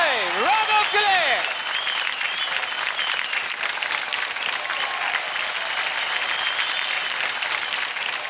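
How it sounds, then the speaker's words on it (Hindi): Studio audience applauding after a dance performance on a televised dance competition, continuous crowd clapping over several seconds, opening under a loud voice that shouts or whoops before the applause carries on alone at a steady level. "जोरदार तालियां हो जाए"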